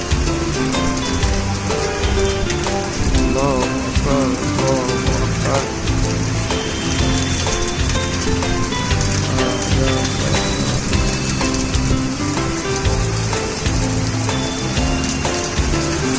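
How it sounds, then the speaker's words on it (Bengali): Heavy rain driven by stormy wind after hot weather pours down in a loud, dense, unbroken hiss of drops striking surfaces, with faint voices mixed in. "বৃষ্টি কখন শেষ হবে কে জানে"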